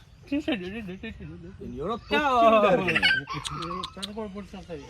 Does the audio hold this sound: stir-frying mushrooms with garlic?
no